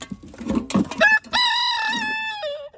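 A few short chicken clucks, then a long, loud rooster-like crow from a bird close by.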